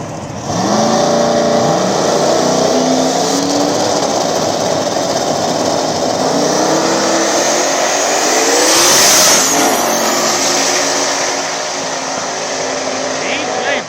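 Small-tire street-class drag cars, including an orange New Edge Mustang, roar loudly and steadily down the strip at a dig-style drag racing event, engines droning close with a rising surge midway, while an announcer talks over the racket.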